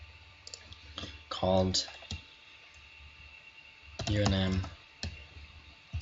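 Computer mouse clicks and keyboard typing while editing in PowerPoint, crisp close clicks in small clusters, with someone talking over them.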